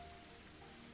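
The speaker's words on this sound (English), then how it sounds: "I didn't think it would rain so hard" Heavy rain from the video game Higurashi When They Cry, a dense, steady downpour drumming on surfaces at a constant loud level with no pauses.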